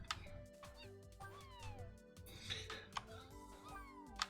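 Soft, high cartoonish meows from a cat in the video game Neko Ghost Jump rise and fall over a bed of game music and sound effects, fairly quiet, with a few brief clicks.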